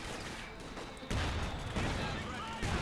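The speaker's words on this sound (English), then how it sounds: "Lots of artillery fire coming into play." Booming artillery fire from the WWII strategy game Company of Heroes 2, with loud broadband blasts landing at about one second and again near the end over a steady layer of battle noise.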